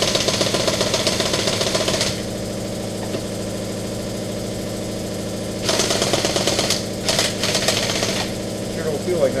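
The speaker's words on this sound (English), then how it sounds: "Compressor." An air compressor runs with a steady mechanical hum and throb in a garage during front-end tire work, louder bursts of noise coming and going, and a person talking over it.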